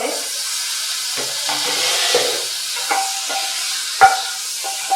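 Chicken cooking with fenugreek in a pan, a soft continuous sizzle with occasional scrapes and knocks of a spoon stirring the meat, fairly quiet and close.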